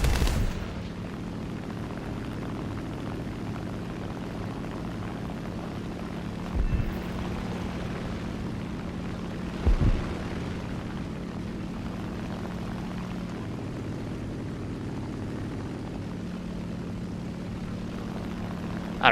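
Propeller fighter aircraft engines droning steadily in flight during a War Thunder air arcade battle, a continuous low hum with a couple of brief muffled bursts like distant gunfire.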